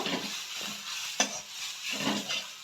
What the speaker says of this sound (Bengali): এবার আমি নারকেল কোড়াগুলো এর মধ্যে দিয়ে দেব দিয়ে একটু নাড়াবো